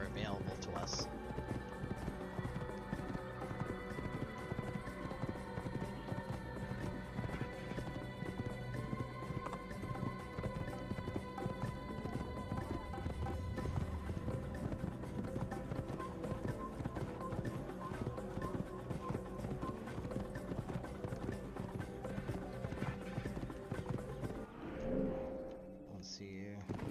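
Horse hooves clip-clop at a gallop in the video game Assassin's Creed, a steady rhythmic pounding under game ambience and someone talking, faint overall, with a brief break near the end.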